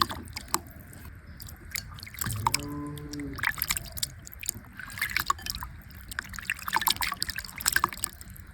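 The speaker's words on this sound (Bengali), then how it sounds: "তো এখন মাছগুলো ধুয়ে নেব।" Small fish are washed in water, making irregular splashes, drips and trickles, with occasional clinks of a vessel, close and moderately quiet.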